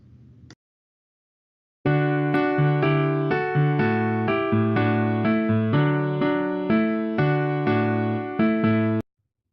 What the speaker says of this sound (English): What you just heard was part of one of the most played symphonies in the world